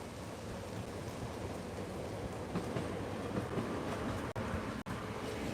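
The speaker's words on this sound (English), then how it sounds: "Look, the rain is really huge." Heavy rain falling steadily on a street in Chelyabinsk, Russia, a dense, continuous broadband wash with no break and no voices, holding at an even level throughout.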